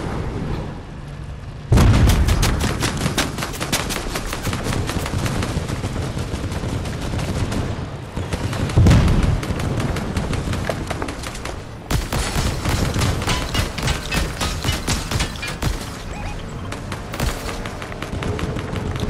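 Fortnite gunfire in rapid bursts, with dense automatic fire, sharp cracks and occasional heavy booms, loud and continuous with brief pauses between volleys.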